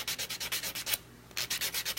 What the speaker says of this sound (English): You can just use the regular buffer block that comes in your starter kit.